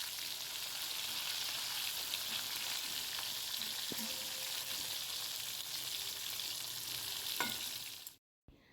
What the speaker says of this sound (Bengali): এই দেখো কড়াইতে ইলিশ মাছটা আমি ভাজা বসিয়ে দিয়েছি।